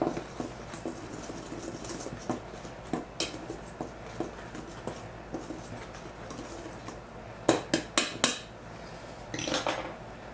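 Dry ingredients for a gluten-free rice flour sourdough bread being stirred together in a bowl, giving a steady close scraping and clinking of utensil against the dish with sharper knocks toward the end.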